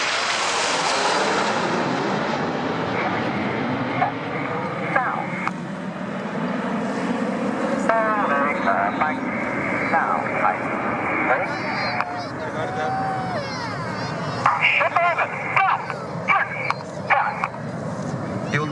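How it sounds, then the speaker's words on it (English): Red Arrows aerobatic jets roar over an airshow in Tallinn, a broad engine rumble sweeping past and fading, with a commentator talking over it throughout. "You'll now see the jets collapse to around 2 meters away from each other as they form short diamond formation."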